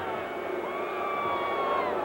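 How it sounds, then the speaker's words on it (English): A stadium crowd boos at a 1996 NFL football game, Jacksonville at New England, a broad, sustained low roar of many voices filling the background, steady and distant for the whole stretch. "And I don't understand what they're booing."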